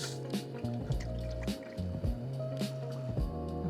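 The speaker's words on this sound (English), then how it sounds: "So we're gonna add in our water." Tap water pouring into a cooking pot for homemade chicken noodle soup, a steady close liquid splashing and dripping with faint background music.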